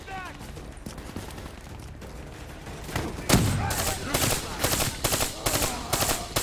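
Rapid bursts of automatic gunfire from the video game Black Ops 3 rattle out in quick repeated volleys, growing denser and louder in the second half, over faint background game sounds.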